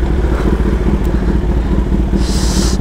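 A Kawasaki ZX10R sportbike with a loud aftermarket exhaust rumbles steadily and close on a college campus, a deep continuous engine drone with slight clatter and no talk over it.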